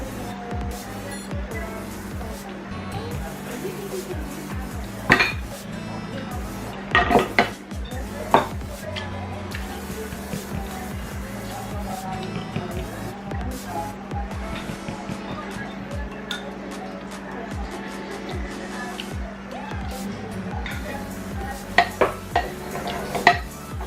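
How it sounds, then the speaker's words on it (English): A utensil scrapes and clinks in a Chipotle-style bowl as food is scooped and mixed, scattered knocks and scrapes close by over steady background noise and occasional talk. "I'm just gonna scoop some up. I'm just gonna mix it."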